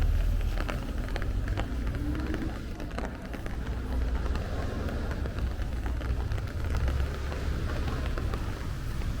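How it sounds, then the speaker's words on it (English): Steady rain hisses on a busy Brooklyn street in the morning, a dense continuous wash of drops with the low rumble of passing traffic underneath and no voices. "it sounds like the rain is starting again"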